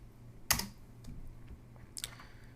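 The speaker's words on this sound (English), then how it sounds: "Let me just type in painter this time." A few keystrokes on a computer keyboard, brief clicky taps in a couple of small clusters with quiet gaps between, close and fairly faint.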